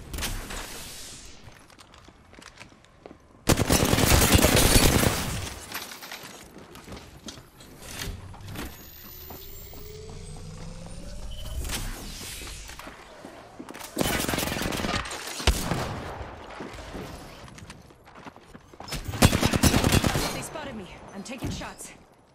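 Bursts of automatic gunfire in Apex Legends, loud clusters of rapid shots separated by quieter stretches of movement and mechanical clatter, with a player talking between the volleys.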